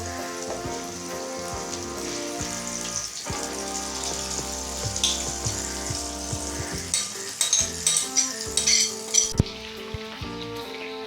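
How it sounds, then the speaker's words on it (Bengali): Marinated chicken for dahi malai chicken hits a hot pan and sizzles steadily, a loud close frying hiss with crackles and pops that grow sharper toward the end, no talking. "এবার আমি ম্যারিনেট করা চিকেনটা দিয়ে দেব।"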